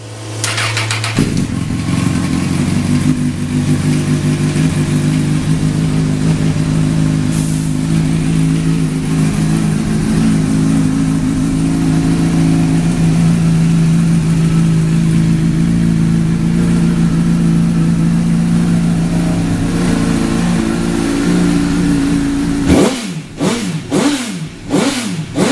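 A wrecked 2006 Honda CBR1000RR motorcycle engine with 16,928 miles starts and runs at a loud, steady idle close by, then gives a few sharp revs near the end.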